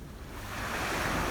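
Surf washing in at Headlands Cove, a seaside inlet, as a steady broadband rush that swells slightly louder over a short stretch, with some wind across the microphone and no voices.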